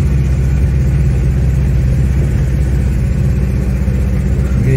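Engine of a 25-horsepower Renault 4L running rough and low as it nears stalling, a loud, steady close-up drone with a pulsing low rumble and no voices.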